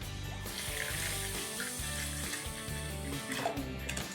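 Water poured from a tap into a bowl of sugar for lemonade, a continuous running gush under steady background music.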